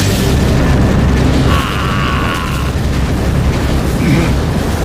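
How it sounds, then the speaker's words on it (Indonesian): A loud, sustained rumbling blast fills the clip, with a deep roar and crackling debris, plus a brief whining tone in the middle. "hingga terjadilah ledakan besar yang seolah-olah melenyapkan dirinya"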